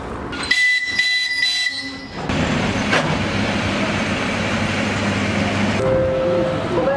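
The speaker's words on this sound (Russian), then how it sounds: "Наш поезд все-таки прибыл." A train rumbles steadily nearby as it arrives at a station in Russia, with a sharp whistle-like tone at the start and a brief horn note near the end over continuous rolling noise.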